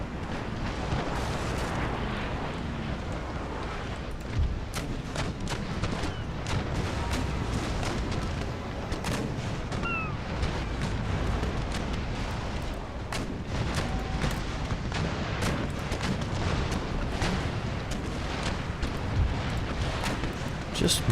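Naval battle in Empire: Total War, with ship cannons firing against a tough 5th-rate warship and sails being damaged: a dense, continuous barrage of booming cannon blasts and bursts, loud and steady throughout, with no voices in between.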